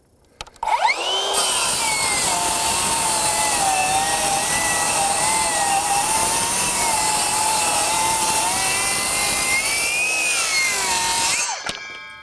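A Metabo HPT MultiVolt C36 rear-handle circular saw on its corded adapter spins up and cuts through wood in one long, loud, steady whine lasting about ten seconds before winding down.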